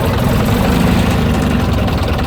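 An AEC Militant 6x6 artillery tractor engine idles with a heavy, steady low rumble, close and loud throughout, with no clear shutdown within the span.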